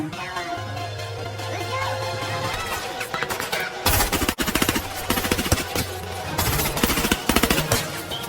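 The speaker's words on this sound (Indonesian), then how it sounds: "mereka pun segera kabur menghindari berondongan peluru dari pasukan tersebut" Machine gun fire from a war film in rapid, dense bursts with sharp impacts, loud and close, set over a low droning rumble and hum.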